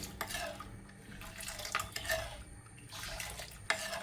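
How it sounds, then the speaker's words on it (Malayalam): A spoon stirs sugar into milk in a metal pot, giving steady scraping and light clinking against the pan, with faint watery swishing throughout. "കുറച്ച് പഞ്ചസാര ഇട്ട് കൊടുക്കാം."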